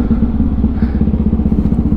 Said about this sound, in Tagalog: Yan, stable na ulit ang ating motor.